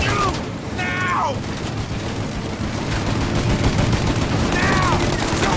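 Shootout gunfire in the video game Mafia, a steady roar of shots and bursts running through the whole stretch, with shouted voices and game dialogue over it.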